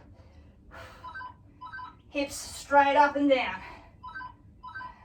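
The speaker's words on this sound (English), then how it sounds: "Sorry about the phone." A telephone rings in a home workout space, with repeated short electronic ring bursts at a steady rhythm, faint to moderate, under a woman giving exercise instructions.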